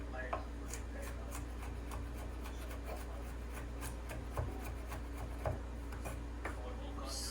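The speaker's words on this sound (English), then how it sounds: "I'm going to chop it because I like chopped garlic in my pasta" Fresh garlic cloves being chopped with a knife on a board for a buttery garlic noodle dish, giving a few faint, irregular taps and scraping rubs over a steady low background hum.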